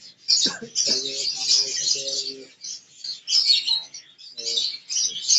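Chicks of a white tail African lovebird pair in an aviary nest make high, thin chirps in repeated bursts, close and fairly loud, with a few lower calls mixed in.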